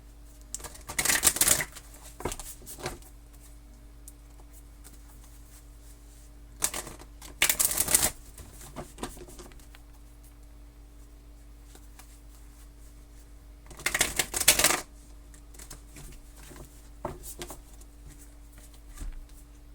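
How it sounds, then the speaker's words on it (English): Mystical Shaman Oracle cards being shuffled in a few short riffling bursts, separated by long quiet gaps with scattered light taps, close and fairly soft, no talk. "I'm going to pull you a Mystical Shaman Oracle card."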